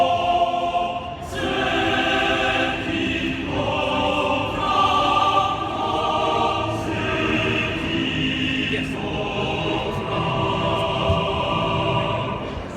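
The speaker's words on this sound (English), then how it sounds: "but that's the man choir" Sample-library male choir sings marcato syllables in short, punchy, rhythmic bursts, full and loud, repeating across several phrases with no talking over it.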